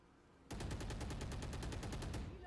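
Rapid automatic gunfire in the shooter Valorant starts abruptly and continues as a fast, evenly spaced burst of loud, close shots for about two seconds.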